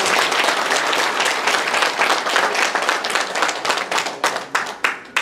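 A seminar audience claps steadily for an honored guest, dense applause that thins toward the end into a few scattered individual claps.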